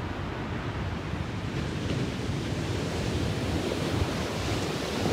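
Ocean surf washes onto a beach in a continuous loud roar, with gusting wind buffeting the microphone throughout and no voices.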